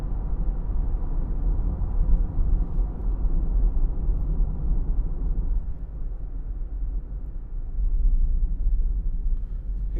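Cabin of a 2017 Ford Mondeo 2.0 TDCi Zetec Edition on a test drive, with a steady low engine and road rumble filling the interior, even and continuous throughout.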